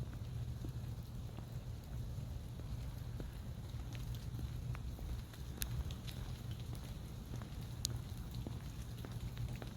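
Rain falls on a garden trail at a park, a steady dense hiss with scattered drip ticks and wind rumble, constant throughout.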